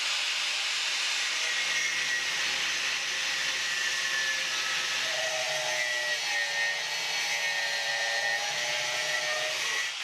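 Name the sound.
cutting a piece of 6mm thick steel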